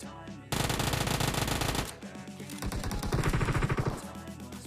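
Gunfire in a multiplayer shooter video game: loud bursts of rapid automatic fire, a brief pause, then more sustained shooting with sharp repeated cracks and close, dense reports.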